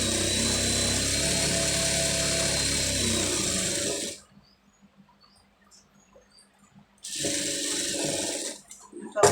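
A sewing machine stitches a sleeve lining with a loud, close, steady whir for about four seconds, stops, then runs again for another two seconds; a voice talks faintly during the pause.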